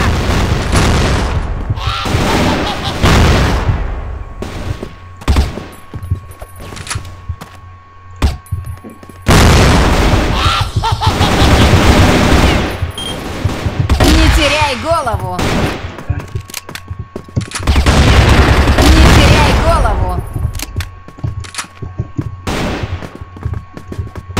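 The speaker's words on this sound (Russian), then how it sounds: "Держись, граната!" Loud grenade blast followed by bursts of automatic gunfire and booming explosions in a CrossFire online shooter match; dense, repeated close shots over about twenty seconds with a few brief lulls.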